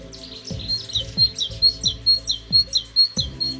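Small forest birds such as tits chirp in repeated high, rapid calls in a mountain woodland, fairly close and steady over a quiet background, with a few low thumps scattered underneath.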